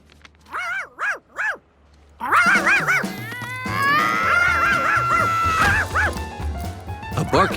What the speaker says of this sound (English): A barking Charky was even worse than a puddle.